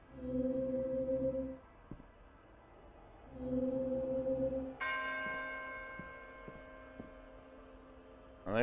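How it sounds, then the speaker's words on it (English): A church bell rings in the video game Those Who Remain, two separate resonant tolls with long humming decay, followed by a brighter metallic chime that rings out and fades, all fairly close and clear with no talking. "Well, there's one bell."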